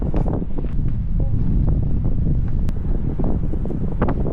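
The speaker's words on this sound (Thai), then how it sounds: "ลมแรงมาก" Strong wind buffeting a microphone in continuous gusty rumbles on a coastal headland at Heping Island Park, with faint rustling and brief scattered sounds throughout.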